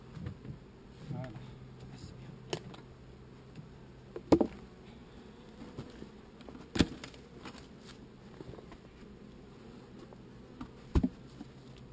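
Honeybees from a swarm buzz faintly around the hive as a low, steady hum, heard close up. Occasional clicks and knocks from handling the hive cut through the hum.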